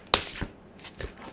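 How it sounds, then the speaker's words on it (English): Oracle cards being shuffled: a sharp riffle burst near the start, then a couple of softer card flicks, close and fairly quiet, with no voice. "I feel like I want to pull a healing oracle card for you."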